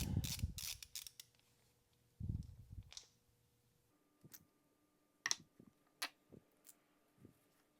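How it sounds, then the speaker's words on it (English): Mechanical clicks and ratcheting as end screws are driven into a SpeedPlay Zero bicycle pedal during a rebuild, with a few loud rattles early, then sparse, separate clicks and faint steady tones, close and with no talk. "Now we're going to install our end screws, and this will help pull in any leftover bearing slop that might be in there."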